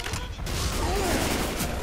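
A mounted machine gun turret in Left 4 Dead 2 survival mode hammers out continuous rapid fire, dense and loud throughout, mixed with chaotic game noise.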